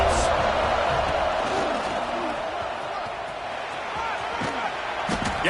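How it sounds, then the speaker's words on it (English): Loud home crowd roaring steadily in a football stadium for Clemson, a dense sustained wall of noise with a few sharp thuds and shouts poking through. "This crowd trying to show them what it's going to be like all day in this house."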